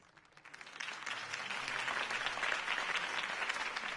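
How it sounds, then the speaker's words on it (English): A crowd applauds after a mayoral campaign speech, the clapping swelling from a soft start into a steady, dense roar of many hands that carries on to the end. "could have heard that applause"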